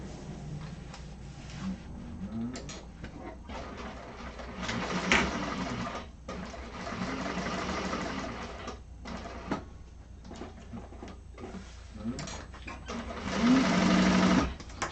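A sewing machine stitches a carpet bag in bursts, its fast mechanical whir stopping and restarting with brief pauses between runs, steady and close throughout.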